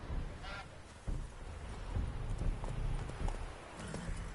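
Horse hooves clip-clopping at a gallop in The Witcher 3, a steady rhythmic thudding over a low ambient game soundscape, with a brief high honk-like call near the start.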